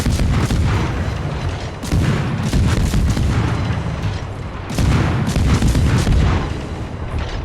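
Heavy naval guns on the destroyer USS Kidd in a tier 8 naval battle game boom again and again, loud and near, salvos rolling into each other with dense rumbling bursts every second or two and no pauses.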